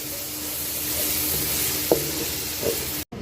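Ginger-garlic paste and tomato fry with goat meat in a karahi, giving a steady loud hiss and sizzle throughout, with a couple of faint clinks, and the sound cutting out briefly just before the end.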